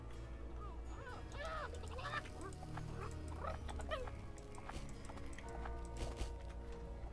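A chair in the video game Witch It releases a chicken, heard as repeated squawking, clucking calls over a steady layer of game music and ambient noise.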